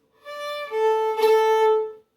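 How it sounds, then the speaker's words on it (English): A bowed fiddle sounds a sustained note, steps to a lower one, and a quick shivering flourish in the bow, a biddle ornament borrowed from pipe music, ornaments it midway through. "A biddle is a sort of pipe ornament, which sounds something like this."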